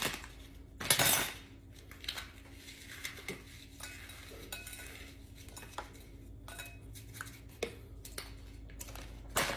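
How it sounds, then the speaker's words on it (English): A spoon mixes crushed Oreos and sour cream in a bowl, with soft scraping and intermittent clinks against the sides, fairly quiet and close. "You mix that baby in here."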